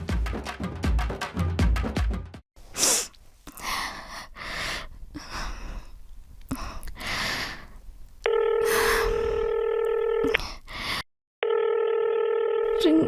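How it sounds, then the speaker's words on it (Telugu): A phone rings unanswered, with repeated electronic ringback tones sounding in two long bursts near the end after a stretch of breathy sounds and brief noises, clear and close. "రింగ్ అవుతుంది, లిఫ్ట్ చేయడెందుకు?"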